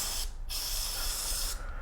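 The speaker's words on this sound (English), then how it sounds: "just kind of spray a little bit on it right here" Chain cleaner sprayed onto the drive chain of a 2018 Honda CB500F motorcycle, two steady hissing bursts of aerosol spray, close and loud, separated by a brief pause.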